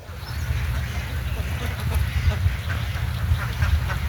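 A large flock of ducks on a farm of some eighteen thousand birds in Chuadanga, Bangladesh, quacks continuously in a dense, loud, overlapping chorus with no pauses.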